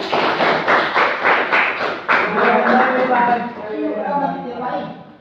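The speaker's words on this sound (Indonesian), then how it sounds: "Tepuk tangan dulu untuk Pak." Rhythmic hand clapping from a group in a primary classroom, loud and close, steady beats slowing and blending into mixed chatter and voices near the end.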